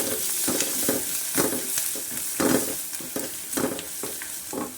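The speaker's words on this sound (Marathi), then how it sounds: "आलं लसूण पेस्ट कढीपत्ता घालायचा पूर्ण हलवून घ्यायचं" Ginger-garlic paste and curry leaves frying in a pan for idli sambar, a loud steady sizzle with regular scraping stir strokes about every half second, close up and with no talking.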